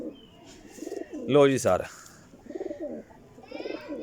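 Golden teddy pigeons coo with a few soft, low, repeated phrases close by, alternating with a louder burst of flapping or other bird noise and someone talking.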